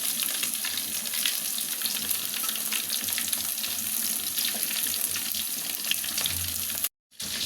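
Food pieces fry in hot oil in a pan, a steady dense sizzle running throughout at moderate level, briefly cutting out near the end.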